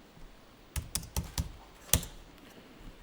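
A few quick, distinct computer-keyboard key taps while entering accounting entries, spaced irregularly with one sharper press near the end, close and fairly quiet over a low background hiss.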